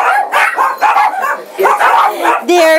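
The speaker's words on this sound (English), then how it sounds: "And there's the Basset. Thumbelina." A basset hound barks among other dogs in a shelter's senior lobby, several loud yips and barks spread through the clip while people talk excitedly over them.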